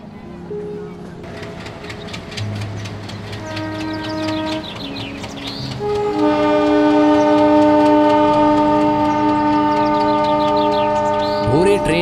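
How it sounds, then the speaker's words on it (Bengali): A train running on rails as a sound effect in a Bengali audio story: a steady rolling rumble with sustained horn-like tones that swell louder around the middle and continue to the end. "ট্রেনের ঝিকঝিক শব্দটা যেন আরো বেশি করে ঘুম পাড়িয়ে দেয়।"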